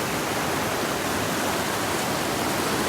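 Steady, dense rushing of water at Zamora Falls, a waterfall at Sitio Calumpit, heard close and loud as an unbroken broadband roar with no pauses.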